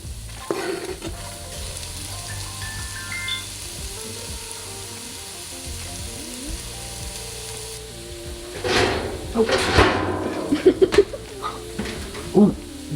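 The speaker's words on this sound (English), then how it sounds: "next we're cooking the aromatics" Aromatics frying in a pan, a steady soft sizzle through most of the stretch, then louder bursts of crackling and stirring clatter toward the end as the pan is worked.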